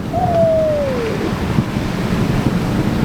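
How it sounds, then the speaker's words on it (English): Choppy sea waves slam and wash over a sailing boat on a passage from Guadeloupe to Martinique, a loud continuous rush of water and wind noise with a brief whistling tone near the start. "it's choppy and it's noisy with these waves that keep slamming over the boat"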